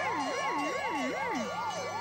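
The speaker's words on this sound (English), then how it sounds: "A fire engine, maybe. Yeah, could be a fire engine." A fire engine siren wails up and down in a steady, repeating cycle, loud and continuous with no voices.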